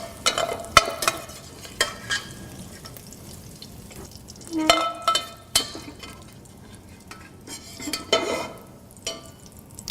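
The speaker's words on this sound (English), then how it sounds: "I'm going to make use of the fond, the flavor on the bottom of the pan, and the fat to saute our trilogy of vegetables" Green peppers, onions and celery sautéing in bacon fat for Cajun red beans and rice: a steady soft sizzle with intermittent scraping and stirring clatters of a utensil in the pan, close and clear, no talking.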